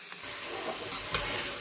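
Minced meat keema frying in a pan with kachnar (Bauhinia) buds just added, a steady close sizzle with soft stirring scrapes and a couple of brief louder clatters.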